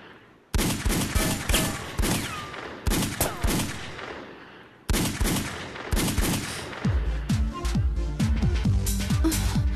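Rapid bursts of gunfire crack out in repeated volleys of close, loud shots, with brief gaps between bursts and a denser, overlapping fusillade toward the end.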